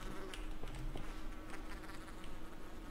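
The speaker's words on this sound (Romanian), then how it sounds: "mă disperă musca asta" A housefly buzzes steadily through the whole stretch in the PUBG battle royale game, a close, continuous droning whine with slight wavering over low game ambience.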